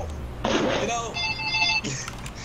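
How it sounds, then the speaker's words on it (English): A telephone ringing during a League of Legends gaming session, several short bright rings in quick succession, mixed with voices talking. "Kevin, I can't pick up the phone right now."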